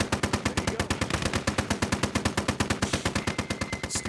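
Rapid automatic gunfire from the WWII strategy game Gates of Hell: Ostfront, set in a pine forest battle between US and Soviet forces; a steady, loud stream of evenly spaced bursts runs for four seconds, with a faint extra crackle near the end.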